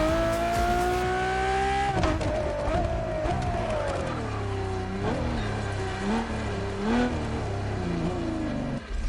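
A Ferrari car in The Crew Motorfest racing game drives with a steady, loud engine drone whose pitch climbs and dips through gear changes and revving, with occasional tire squeal, heard alone without talk.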